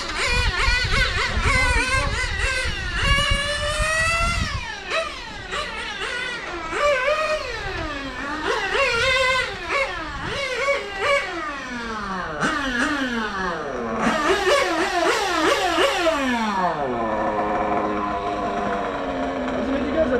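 A 1/8 scale nitro RC track car's small engine whines and revs up and down continuously in rising and falling sweeps, loud and close, with voices talking over it at an outdoor mini-car track.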